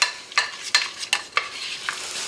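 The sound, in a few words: onions frying in a pan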